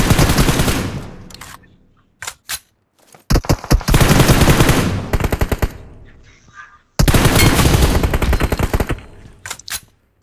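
Rapid automatic gunfire in a 2v2 Burst Battle video game match, loud and close, coming in long dense bursts with short gaps and a few isolated single shots between them.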